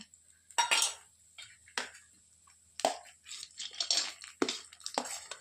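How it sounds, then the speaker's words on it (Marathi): Almonds go into a pan of homemade ghee with close, bright metallic clinks and scrapes that come in irregular bursts and short pauses, with no talking. "आता टाकत आहे मी बदाम"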